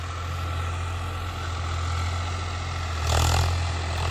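A new Swraj 744 XT tractor of around 50–55 HP idles and runs nearby with a steady low engine hum and rumble, swelling briefly louder near the end, with no voices.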